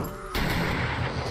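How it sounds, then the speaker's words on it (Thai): A fire bomb bursting into flames in the zombie survival game 7 Days to Die, a sudden loud broadband whoosh and roar that cuts in after a quiet moment and keeps crackling and burning steadily to the end. "ไฟมันลุกแบบระเบิดไฟอ่ะ"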